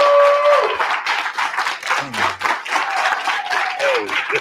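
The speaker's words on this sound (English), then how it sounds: "Thank you very much for that much appreciated applause" A live audience applauds for Dr. Claud Anderson, with dense sustained clapping from a crowd in a hall that swells and continues for several seconds, scattered whistles or cheers rising above it.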